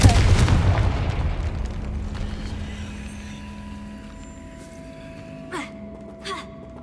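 A Confringo spell in Hogwarts Legacy bursts as a loud fiery blast at the outset, its rumble fading slowly into a humming stone chamber with a couple of faint knocks later.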